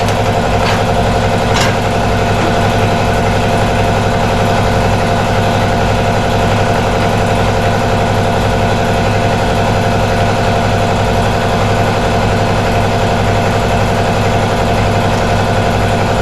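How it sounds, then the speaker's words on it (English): An air compressor runs in a garage workshop during a 1968 Mustang cowl rebuild, a loud steady mechanical drone with low hum and engine-like throb continuing unbroken throughout, with a couple of faint brief ticks early on. "Okay, compressor's a little loud."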